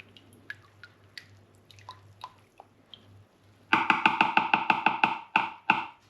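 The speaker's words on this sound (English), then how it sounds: "Oh, I'll give it a little stir." A little spoon stirring a batch of home brew blackcurrant, rhubarb and gooseberry milkshake stout, giving a quick run of close, wet clinking taps after a few scattered drips.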